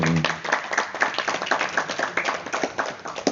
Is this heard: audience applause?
yes